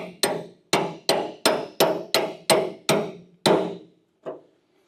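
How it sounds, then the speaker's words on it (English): A chisel hammered through to break welds free while rebuilding a wrecked Toyota Supra, heard as about nine loud, sharp metallic strikes in a fairly even rhythm, close up, with a softer final blow. "Run the chisel through here one more time."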